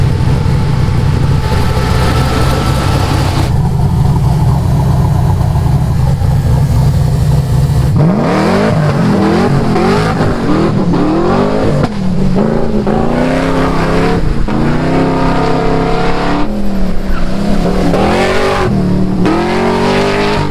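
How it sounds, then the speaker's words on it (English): Rally cars tear around a dirt track, engines revving hard and rising in pitch through repeated accelerations and gear shifts, loud and close, with a steadier engine drone before the revving starts. "we're just gonna be out here ripping it around in the dirt"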